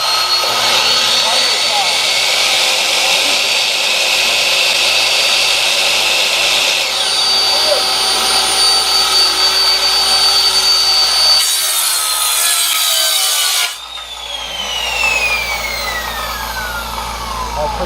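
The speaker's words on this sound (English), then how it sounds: "Air compressor. Air compressor. Circular saw." Air compressor hum and a whining circular saw cutting wood, both powered off a 2021 Ford F-150 PowerBoost hybrid, loud and close with a pitch sweep as the saw spins down, voices speaking over it.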